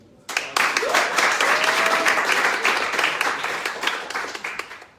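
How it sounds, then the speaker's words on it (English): Sustained audience applause at a one-minute elevator pitching event, dense clapping starting abruptly and holding steady and fairly loud for several seconds, with a voice briefly audible underneath. "Please applause."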